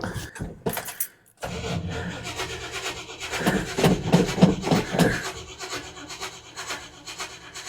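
A 1957 delivery car's engine cranks over without catching, its starter churning in an uneven rhythmic chug for several seconds after a brief mechanical clatter, loud and close.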